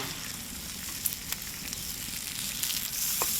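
Bacon for a sandwich sizzles steadily in a pan, a soft, even hiss with a few small pops and crackles, no voices.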